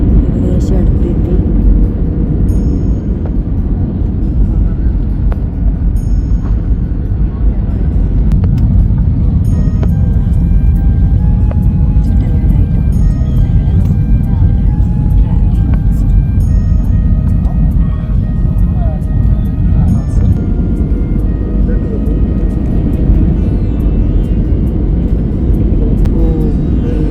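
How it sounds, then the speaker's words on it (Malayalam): Airliner cabin noise as the plane comes in to land at Kathmandu, a steady, loud low-pitched engine and air drone that holds without break for the whole stretch. "അങ്ങനെ ഞങ്ങൾ നേപ്പാൾ ലാൻഡ് ചെയ്യാൻ പോകാറായി."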